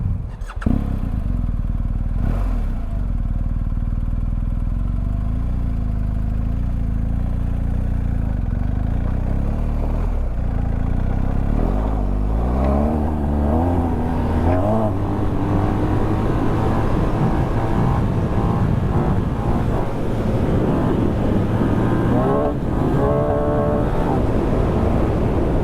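A 2021 BMW R1250 GS Adventure motorcycle engine runs loud and steady while riding off-road, its drone rising in pitch as the bike accelerates through the second half of the clip, with no talking.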